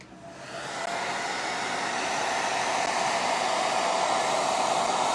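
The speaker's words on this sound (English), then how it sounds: "I'll hit it with a dryer." Hair dryer blowing on wet paint on a dollar store pizza pan, switched on and rising to a steady, loud, close whooshing hum that holds for several seconds.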